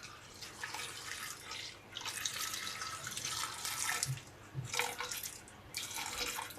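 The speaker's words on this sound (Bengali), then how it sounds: "প্রেসার কুকারের মধ্যে দিয়ে দিয়েছি। এবার আমি কিছুটা জল দেব" Water pours into a pressure cooker in several splashing bursts while papaya chhenchki is being cooked, trickling and running close by, with short pauses between pours and no talk.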